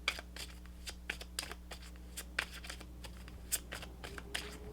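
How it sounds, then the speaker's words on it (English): Tarot cards being shuffled by hand, a quiet run of crisp riffling snaps and soft slides in an uneven rhythm, close by with a steady low hum underneath. "I feel like I'm going to shuffle these cards better though."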